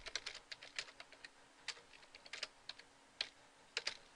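Numbers keyed into a TI-84 graphing calculator, a run of light plastic key clicks in quick irregular clusters with short gaps between entries, close but faint and alone.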